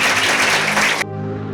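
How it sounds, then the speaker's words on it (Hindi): A church congregation claps loudly together in a dense burst of applause during a sermon, which cuts off abruptly after about a second, leaving soft sustained keyboard tones. "एक जोरदार ताली परमेश्वर के वचन के लिए बजाएंगे हम"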